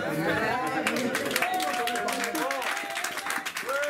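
Church congregation clapping and cheering throughout a worship service, steady dense applause with mixed voices and crowd chatter, loud and continuous.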